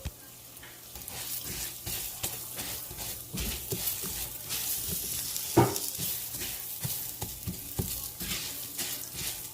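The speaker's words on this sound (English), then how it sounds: "mixing it, just like frying it a little bit" Rice and onion fry in a pan for Mexican rice, with a constant close sizzle broken by repeated scraping and stirring strokes of a utensil.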